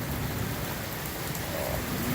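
Heavy rain pours steadily during a storm, a dense, loud hiss of water hitting surfaces that fills the whole scene without letting up and with no voices.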